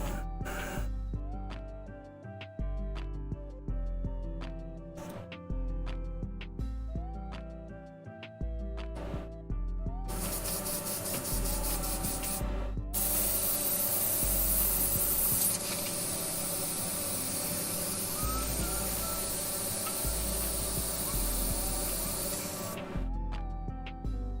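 A paint spray gun hisses in loud sustained bursts, with mechanical ticking and a homemade extractor fan humming underneath, the spraying running long and continuous in the second half.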